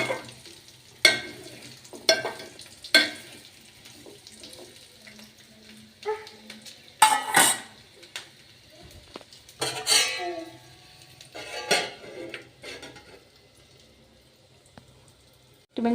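Ingredients for coconut chutney fry in a pan with a soft background sizzle, broken by scattered clinks and scrapes of a spoon stirring, loud strokes standing out now and then.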